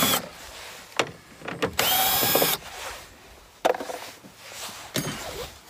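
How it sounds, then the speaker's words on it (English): Phillips screws being backed out of a Ford extended cab truck's rear door panel with a power driver, one loud whirring burst among sharp clicks and knocks nearby. "We got two screws that are Phillips we're gonna remove."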